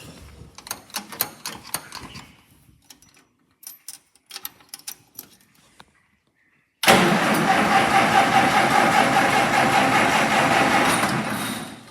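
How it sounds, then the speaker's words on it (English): A steady, loud engine rumble from an Allis-Chalmers D17 tractor kicks in partway through after scattered clicks and mechanical clatter, then runs on evenly, idling. "this tractor likes to idle a lot sometimes"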